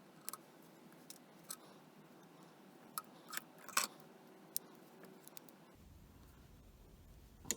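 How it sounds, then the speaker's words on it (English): Scissors snip through a small plastic attachment fastened to a fashion doll's head, giving a few sparse, quiet clicks and crunches spread out over near-silence, with no talking. "I'm going to cut this thing out of her head and cut this as well."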